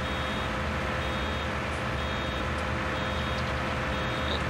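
A farm vehicle in Farming Simulator 2019 sounds steady reversing beeps over a constant loud engine drone, heard alone without talk.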